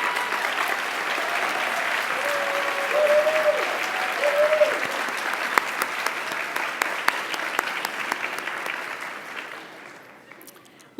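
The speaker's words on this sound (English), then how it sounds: "another round of applause for all of the folks who did that" An awards-ceremony audience applauds loudly in a sustained burst of clapping, with a faint voice briefly over it, before the applause thins and fades toward the end.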